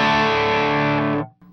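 An electric guitar chord rings through an Andrews Para Dyne 50 amp with tight distortion, a thick, buzzing sustained tone that cuts off abruptly after about a second.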